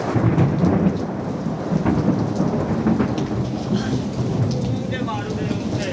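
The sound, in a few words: rain and thunder in Sialkot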